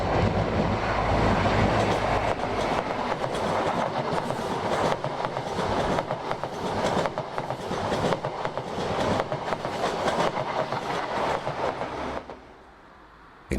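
A Great Western HST passing close by, its power cars roaring loudly with rhythmic clickety-clack of wheels over rail joints for about twelve seconds before the sound drops away abruptly.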